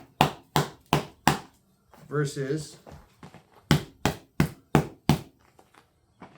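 Knocks against rigid, hard padding of Muay Thai shin guards in a side-by-side comparison: two runs of four to five sharp, evenly spaced thuds, separated by a brief spoken word.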